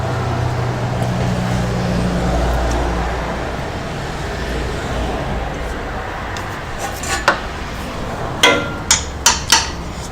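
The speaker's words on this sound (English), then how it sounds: "we just try and tap it in as evenly as we can" A car transmission extension housing seal is tapped into place with an old machined piston used as a driver, giving a series of sharp taps near the end, over steady background hum.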